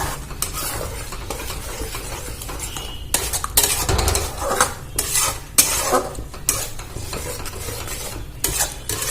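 Masala is stirred and fried with a little water in a pan while cooking a doi potol curry, with a soft steady sizzle broken by repeated scraping and clanking of a spatula against the pan in irregular bursts.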